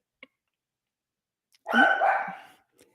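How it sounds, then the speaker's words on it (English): A single close, loud dog bark breaks an otherwise quiet indoor stillness, with only a faint tick before it. "Why are the dogs barking?"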